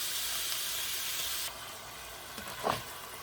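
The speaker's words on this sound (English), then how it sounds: "I'm going to brown this for a few minutes" Lean ground beef sizzles in a hot pan with a steady bright hiss that drops in intensity partway, followed by a couple of short scraping stirs near the end.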